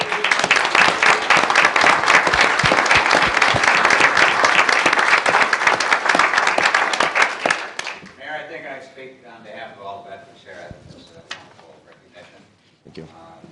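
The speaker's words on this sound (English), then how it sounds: "Let's give all of our veterans one more round of applause." Sustained loud applause from the audience at a city council meeting honoring veterans. It fills the first eight seconds, then fades into scattered claps and murmuring voices.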